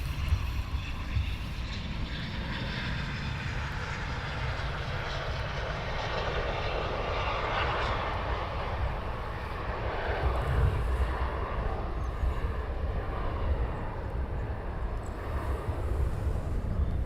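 RAF Typhoon fighter jets taxi at an airbase, a steady distant engine roar with broad rumble and some wind buffeting on the microphone, no speech.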